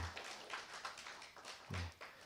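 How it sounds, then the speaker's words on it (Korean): A church congregation at a Sunday service applauds, very faint scattered clapping in a large room, soft and uneven with a few louder hand strikes standing out. "박수 한번 쳐주시죠"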